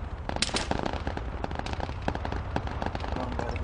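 Gunfire in ARMA 3 on a machine-gun server: rapid, dense bursts of sharp shots crackling continuously, fairly faint and distant-sounding, with no voices over them.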